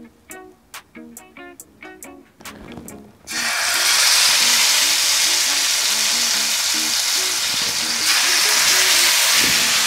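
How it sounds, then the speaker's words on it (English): Steak hits hot grapeseed oil over high heat and bursts into a loud, steady sizzle that fills the rest of the clip, after a few seconds of clinking and handling beforehand. "So we're gonna get this on a high heat to sear on all sides."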